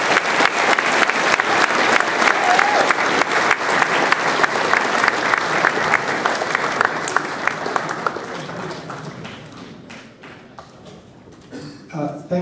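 Audience applause welcoming keynote speaker Tyler Cowen at a 2011 conference evening event: a loud, dense wash of clapping that holds steady for about eight seconds, then thins and fades out.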